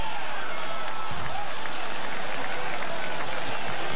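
A baseball crowd breaks into applause, a broad wash of many hands clapping with crowd noise that stays steady and fairly loud through the moment.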